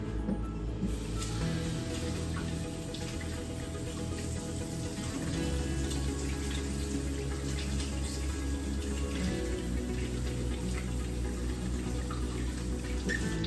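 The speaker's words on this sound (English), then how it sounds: "I'm just gonna wash my hands" Water running steadily from a kitchen tap while hands are washed, a constant close rushing splash throughout with slight changes in tone as the flow is disturbed.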